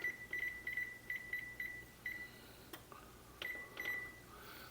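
Several short electronic beeps sound from an oven timer as it is set for seven minutes: a quiet, uneven run of chirps over faint kitchen background, with a few soft clicks and knocks between them.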